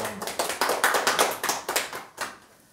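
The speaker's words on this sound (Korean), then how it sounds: "박수 한번 쳐주셔야 돼요" An audience at a Korean Buddhist lecture on the Avatamsaka Sutra claps together in a dense burst lasting a couple of seconds, then fades off quickly, with no talking.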